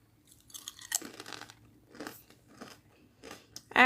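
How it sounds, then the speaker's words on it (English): Crunchy dried apples being chewed close up, a series of crisp crunching bites spaced irregularly across a few seconds, fairly quiet with no talk over them. "You keep them in the fridge and they stay crunchy."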